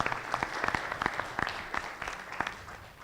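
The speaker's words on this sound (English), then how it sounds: "So a round of applause for the startups." An audience at a live startup event applauds steadily for about three seconds, with individual claps standing out in an uneven rhythm throughout.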